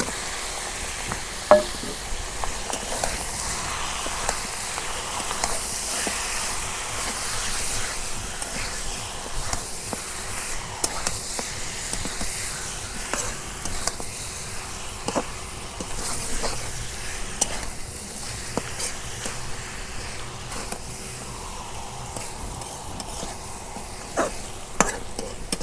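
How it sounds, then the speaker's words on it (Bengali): Chicken pieces for a desi chicken curry sizzle and fry in hot oil right after tempering, a steady dense crackle with sharper spits and occasional stirring scrapes, close and continuous with no talk. "বাগার দিলাম।"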